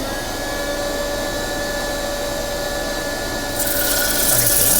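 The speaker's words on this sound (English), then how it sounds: "There's the end of my dust collection. Bring it up close." Dust collector running steadily in a woodturning shop during lathe sanding of an orange-wood dish, a continuous broadband rush with a faint hum, growing louder and hissier near the end as the hose is brought close.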